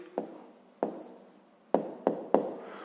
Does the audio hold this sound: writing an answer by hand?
yes